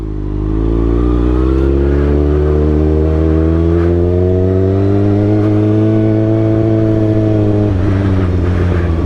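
Kawasaki ZX-6R 636 sport motorcycle fitted with a Racefit exhaust, revving loud and close on a New York City street, its engine note climbing and holding steadily throughout with no talk over it.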